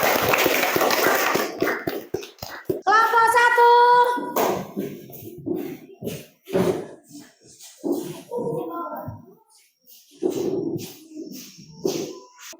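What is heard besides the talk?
audience applause for a presenting group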